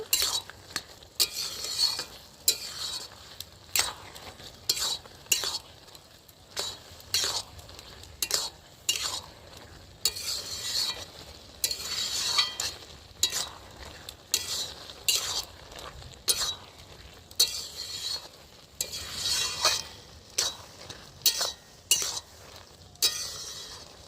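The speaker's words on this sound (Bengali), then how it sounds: "এবার আমি ভালো করে তরকারির সঙ্গে ভালো করে একদম মিক্স করে নেব" Bottle gourd curry being stirred in a pan, a spatula scraping and knocking against metal in an irregular repeating rhythm, with a soft sizzle of frying underneath, close and clear with no talking.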